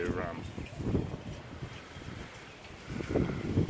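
Wind gusting during a March 2019 bushfire, a steady broadband rush with swells and buffeting on the microphone, with a person talking over it.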